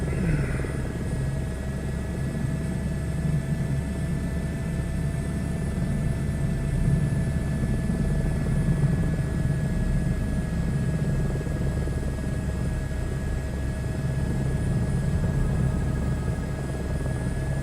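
Airbus H125 helicopter in flight in a video game, a steady droning rotor and turbine hum with faint whining tones, constant and unbroken for the whole stretch, with no voices.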